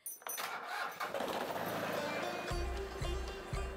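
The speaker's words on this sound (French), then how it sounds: "Il faut réchauffer le moteur avant qu'elle parte." A backhoe engine cranks and catches, then runs with a rough, pulsing low rumble that rises and settles as it warms up, close and loud.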